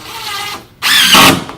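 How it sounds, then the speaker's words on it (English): A power drill drives a screw into a wall art piece in two short close bursts, the second louder with the motor rising in pitch as it spins. "I'm going to go ahead and screw this down"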